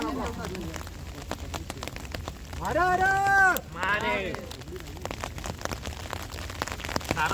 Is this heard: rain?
yes